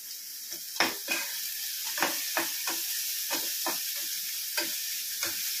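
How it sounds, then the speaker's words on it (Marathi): Capsicum and onion for an egg samosa filling are stir-fried in a pan: a continuous sizzle with regular scraping strokes of the spatula, roughly two per second, close and fairly loud. "सगळं छान असं परतून घेणार आहोत"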